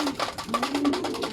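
Racing pigeons back from a training toss coo steadily in a loft in San Jose, Nueva Ecija, their soft throaty calls layered and continuous, close and fairly loud.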